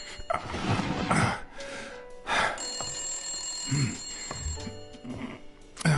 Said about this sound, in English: Oh, my phone ringing.